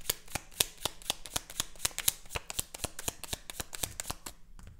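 Tarot deck shuffled by hand, a rapid run of crisp, evenly spaced card slaps and riffles, close and clear, continuing for several seconds without any speech.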